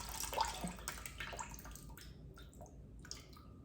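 Water runs and splashes from a tap while homemade butter is washed in a kitchen, a quiet steady stream with light drips and gurgles and no talking.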